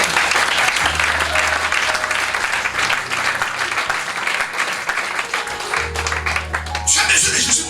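A church congregation applauds, with sustained, dense clapping from a crowd filling the room under a steady bass tone, continuing for several seconds.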